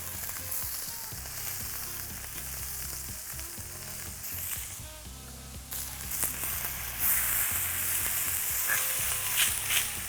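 A Chateau steak sizzles in a hot pan with spoonfuls of garlic and thyme butter foaming around it, a steady close crackling fry that swells louder partway through.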